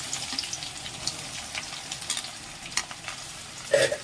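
Onions being stirred in a frying pan as the base for a prawn curry, with a soft continuous sizzle and scattered scraping stir sounds, one louder clatter near the end; no talking.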